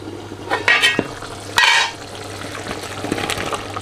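Fish lowered into a pot of simmering okra stew, with a couple of soft splashy plops and wet stirring clatter up close, then a low bubbling kitchen hiss underneath.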